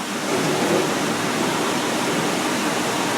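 Water rushing fast from an emergency shower after its lever is pulled, a loud, steady broadband gush that runs unbroken throughout.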